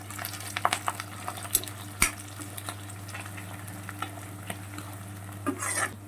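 Curry leaves fry in a pan for egg rice, a light crackling sizzle under a low steady hum, punctuated by sharp spatula taps and scrapes against the pan.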